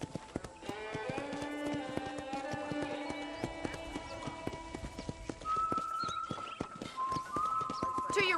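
Rhythmic horse hoofbeats clip-clop at a walking pace under a conversation in the video game Red Dead Redemption, with a sustained musical tone entering partway through.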